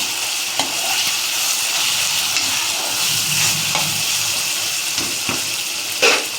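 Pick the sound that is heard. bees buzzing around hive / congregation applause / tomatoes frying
tomatoes frying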